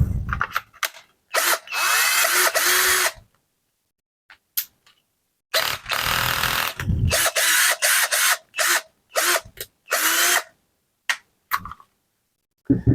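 A PRO-CRAFT PA18C cordless drill runs on a freshly repacked battery, spinning up in repeated whirring bursts of a second or two with short pauses between them, close and loud, with no talking.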